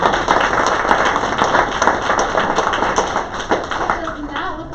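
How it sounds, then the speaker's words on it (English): An audience at a sales and marketing meeting claps steadily, a dense, close patter of many hands running throughout with some faint chatter mixed in. "A round of applause."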